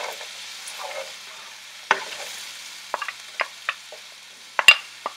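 Onions and garlic go into a hot pan for down-home green beans and sizzle with a steady hiss. Sharp stirring scrapes and taps sound over the sizzle, with no talk.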